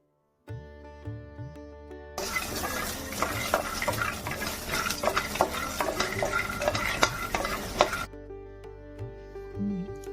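Almonds fry in ghee in a kadai, a steady busy sizzle with stirring clatter that starts abruptly, runs for several seconds, then cuts back to a quieter simmer.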